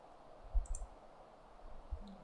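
A computer mouse gives a few faint, quick clicks while a quiz answer is selected in an online quiz, with a short cluster of clicks followed by one more a moment later over quiet room tone.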